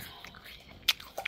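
Apple slices being bitten, with two short, crisp crunches heard quietly and close amid near silence.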